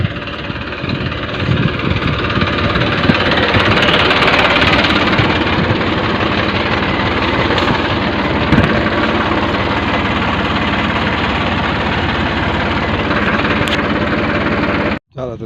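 A tractor engine runs at a steady idle on a farm, loud and close, with a constant mid-range drone and knocking vibration that continues unbroken for about fifteen seconds before cutting off abruptly.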